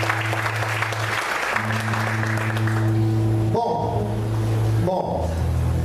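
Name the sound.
church congregation applauding loudly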